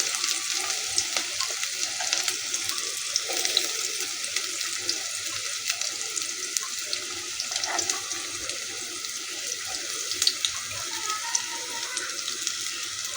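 Chopped onion frying in hot oil with curry leaves for a masoor dal gives a dense, steady hiss, a continuous rushing sizzle that stays even throughout with occasional faint crackles; no one speaks.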